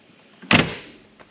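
A single solid thud of a heavy, rusty old car door shutting nearby, with a short fading rattle afterward and a faint click at the end.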